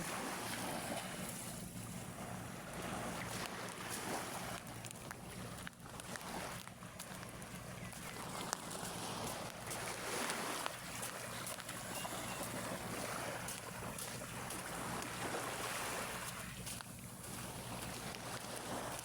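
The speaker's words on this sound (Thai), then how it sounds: "ตอนนี้เราอยู่กันที่ปากน้ำประแส" Boat on the water at the Prasae river estuary, with steady broadband wash of waves and wind buffeting the microphone throughout, no speech.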